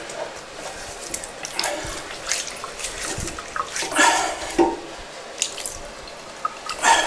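Small amounts of water splash and trickle over feet during wudhu washing, intermittent close splashes, drips and gentle pours at irregular intervals, with no voices over them.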